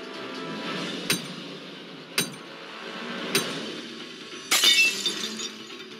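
Safety glass in a Hardy Boys video game takes three sharp, separate blows about a second apart, each a brief crack, before a final louder shattering burst near the end, set over a low steady background hum.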